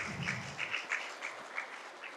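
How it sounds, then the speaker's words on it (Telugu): An audience at a Patriji Dhyana Yagnam event in Vizag gives a faint, scattered round of clapping that carries on steadily for a couple of seconds with no voices over it. "ఆవిడికి ఒక్కసారి క్లాప్స్ కొడతారని నేను ఎంతో ఆశిస్తున్నాను"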